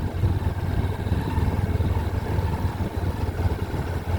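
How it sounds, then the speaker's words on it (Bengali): A motorcycle engine droning steadily while riding through a village, a continuous low rumble with rough texture, close and fairly loud, with no clear voices. "এরকম করে গ্রামের ভিতর দিকে মোটরসাইকেল চালা"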